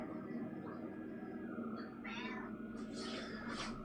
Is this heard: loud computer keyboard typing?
no